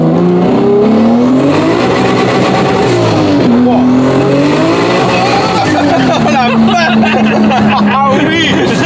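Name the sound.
car accelerating in third gear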